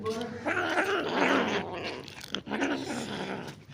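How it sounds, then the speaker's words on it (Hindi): Kittens growl and snarl at each other while fighting over pieces of meat, a continuous low rumbling growl with rough, harsh bursts close by, over a faint background. "आवाज़ सुन रहे हैं आप इनकी कैसे कर रहे हैं,"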